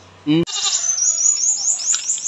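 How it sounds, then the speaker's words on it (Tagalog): A goat in a Philippine village yard bleats loudly and close by, one long wavering call followed by a thin, drawn-out bleat, alone with no talking. "Merong kambing dito oh."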